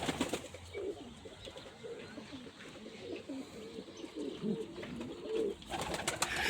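Domestic pigeons, including young birds and breeding pairs, coo in soft repeated low rumbling phrases throughout, with occasional chirps and a faint flutter of wings near the end, set against a quiet background.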